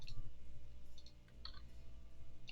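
Computer mouse clicks while working in laser-cutting software: a few crisp, light clicks in quick pairs, close and clear over a steady low hum.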